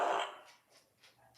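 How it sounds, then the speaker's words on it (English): Toy noisemaker button giving a short buzzy fart sound, loudest at the start and trailing off quickly, fairly faint with no talk over it. "Well, that was a fart."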